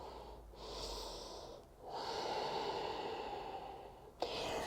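A person doing an upper back yoga exercise on a mat takes slow, close breaths, with long airy inhales and exhales separated by brief pauses and a sharp sniff near the end.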